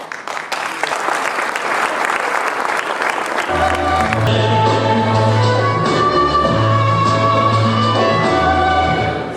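Audience applause for a school drama club at a Pan African cultural event, a dense continuous clapping that swells after a few seconds and stays loud and steady throughout.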